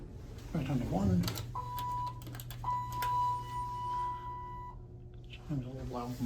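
A voice speaks, followed by two steady electronic chime tones from a Dover/Marshall oildraulic elevator, the second held longer, over a low hum, then talking resumes.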